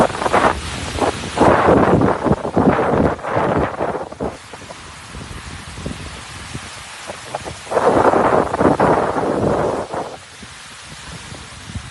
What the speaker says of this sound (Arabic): أمطار الخير والبركة إن شاء الله تهطل على أجزاء مختلفة من المملكة العربية السعودية